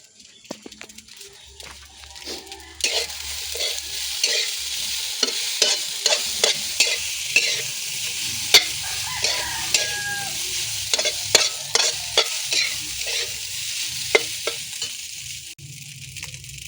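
Fried rice stir-fried in a pan, loud close sizzling under a rapid series of scraping, clattering spatula strokes that keep repeating throughout.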